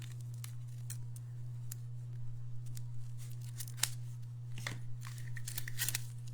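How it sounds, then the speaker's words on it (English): Plastic wrapping being pulled and peeled off a spool of ribbon, giving scattered sharp crinkles, ticks and tearing snaps at close range over a steady low electrical hum. "Hardest part of this is getting the plastic off."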